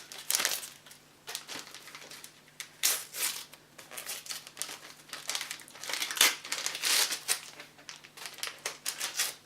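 Paper crinkling and rustling as a well-wrapped envelope from a Christmas bullet-journal box is unwrapped, a steady run of close, dense crackles with no talk.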